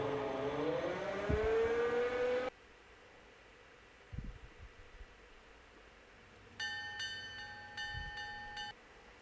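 A diesel train from a sound library: a loud rumbling passage with shifting horn-like tones, then a quieter gap with brief thumps, then a second burst of bright sustained horn tones.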